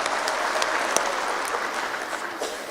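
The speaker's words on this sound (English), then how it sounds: "Please, a round of applause to our president," An audience at a national micro, small and medium enterprises event applauds a president, with steady, dense clapping that stays loud and even throughout, without talk over it.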